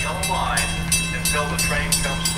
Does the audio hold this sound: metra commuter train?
yes